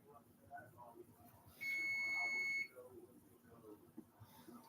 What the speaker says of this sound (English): Let me go turn that off. It's going to keep buzzing.